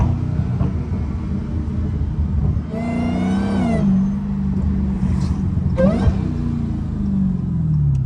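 A loud Dodge Hellcat drives along city streets, its engine rumbling low and steady with a couple of sharp revving surges, heard from inside the car with no talk.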